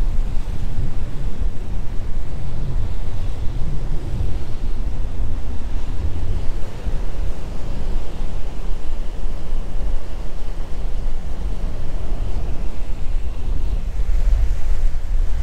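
Waves rock a motorboat on open water in Friesland in June, a steady rolling wash of water and wind rumble with no voices, the surge swelling and easing throughout.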